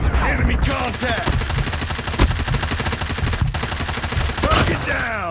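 Rapid bursts of automatic gunfire crack in an iPhone multiplayer match of Call of Duty Mobile, loud and dense, with brief shouted in-game voice callouts at the start and end.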